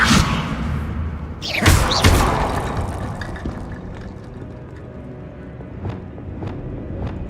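A Levioso spell is cast in Hogwarts Legacy, a sharp whooshing burst followed by heavy thuds, then a decaying rumble and a few faint clicks.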